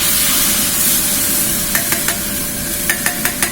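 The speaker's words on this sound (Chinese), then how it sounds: "在油锅中把它炒香啊！" Chili sauce stir-frying in hot oil in a wok, a steady close sizzle and hiss with a few sharp scraping stirs of the spatula toward the end.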